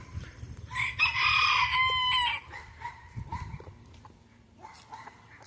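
Bantam chickens make a loud, close rooster crow lasting about a second and a half, followed by scattered clucks and softer calls from the flock.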